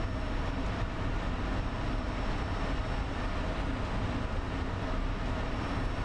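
Enemy jet engine in a combat flight game featuring the Me 262, a steady, dense broadband roar that holds constant and loud throughout with no break.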